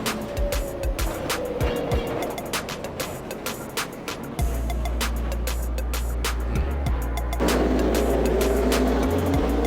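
NASCAR Xfinity race cars run on a wet track in the rain, engines droning with a deep steady rumble, and sharp crackles and spray noise sound throughout, loud and continuous with no talking.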